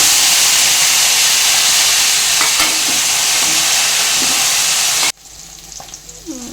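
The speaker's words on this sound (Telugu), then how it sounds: "ఫ్రై చేసుకోవాలి పచ్చిమిర్చి" Green and dried chillies fry with curry leaves in hot oil, giving a loud, steady sizzle and hiss that runs unbroken, then cuts away abruptly to a much quieter, softer crackle near the end.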